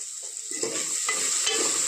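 Green chillies stirred as they fry in a pan, a steady close sizzle with a few scraping strokes of the spoon through the oil.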